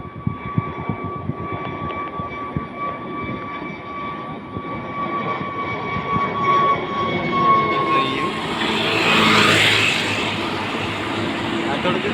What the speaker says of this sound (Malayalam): രണ്ട് മൂന്ന് ഫ്ലൈറ്റ് ലാൻഡ് ചെയ്യാനും പിന്നെ പൊങ്ങാനൊക്കെ ഉണ്ടായിരുന്നു